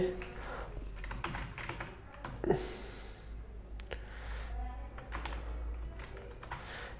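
Keys typed on a computer keyboard while entering text in video editing software, a light run of soft taps at close range, with a few faint voice fragments in the background.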